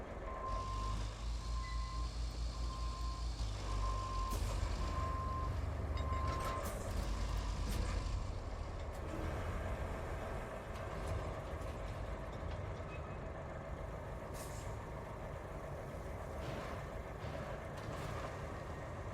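Repeated truck reversing beeps in the RoadCraft video game, a steady evenly spaced tone over the first several seconds, heard over a low rumbling engine and other machinery noise.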